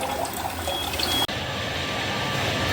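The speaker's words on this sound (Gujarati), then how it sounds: "બંને નોઝલમાંથી આ ખૂબ ઓછું પાણી આવે છે" Water runs from the two clogged nozzles of a water filter in a steady, thin hiss of flow, close and continuous with a brief break, no talking.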